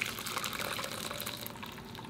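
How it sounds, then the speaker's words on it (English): Ricotta mixture poured into a strainer lined with cheesecloth, making a steady, soft liquid gush and splatter that runs continuously and close by, then eases slightly near the end. "we're gonna pour our mixture in it"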